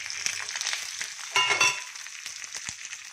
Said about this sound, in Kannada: ಇವಾಗ ಒಗ್ಗರಣೆಗೆ ಹಾಕೋಣ